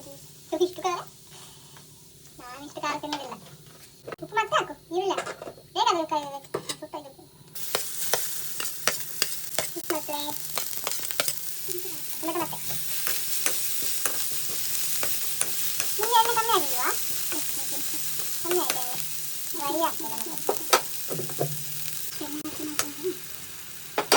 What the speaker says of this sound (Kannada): ಈಗ ಎಣ್ಣೆ ಹಾಕೋದು ಸಾಕಾ? ಒಂದು ಕರ್ಬೇವಿನ ಸೊಪ್ಪು.